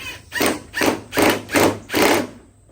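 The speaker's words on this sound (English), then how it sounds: "Sharpen my blade." Five rhythmic grinding strokes, evenly spaced and close, from a 54-inch riding mower deck blade being sharpened.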